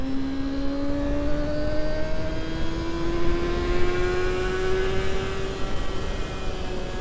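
A Honda CBR250RR inline four-cylinder, fitted with an aftermarket exhaust, holds a steady high-rpm raspy drone that slowly climbs in pitch, loud and close with no talk.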